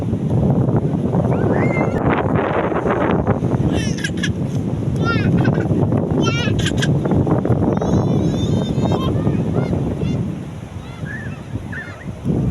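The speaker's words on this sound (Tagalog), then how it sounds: "Mahangin kasi, mahangin." Steady, loud wind buffets the microphone outdoors on a beach with big waves, with surf rumbling underneath, faint birds chirping, and voices talking intermittently in the background.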